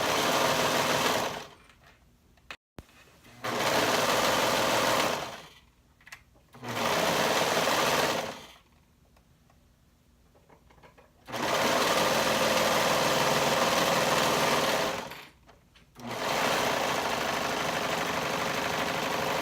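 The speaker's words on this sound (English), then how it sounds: "So we'll sew that up using a 1/2 inch seam allowance." A sewing machine runs a bodice lining seam at a 1/2 inch allowance in four loud, close bursts of steady stitching separated by short quiet pauses.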